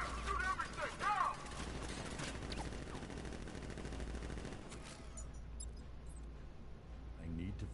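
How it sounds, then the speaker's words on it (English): Video game gunfire from militia in Batman: Arkham Knight, dense bursts of shots mixed with game music and effects, moderately loud, with voices in the scene. "Guard! Open fire! Shoot everything! Now!"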